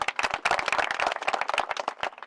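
A village audience at a political gathering claps loudly and rapidly for a couple of seconds. The hand claps are dense and close together, with a few distinct sharp claps standing out from the crowd.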